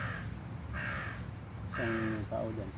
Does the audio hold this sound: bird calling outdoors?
yes